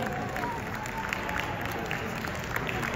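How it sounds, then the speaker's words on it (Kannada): An audience at a Kannada festival in America gives sustained applause for a product launch, a dense, even wash of clapping with murmuring crowd beneath. "ಜೋರಾದ ಚಪ್ಪಾಳೆ ಕೊಡ್ತಾ"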